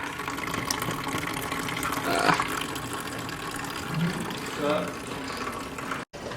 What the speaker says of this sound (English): drain it onto a clean bucket, guys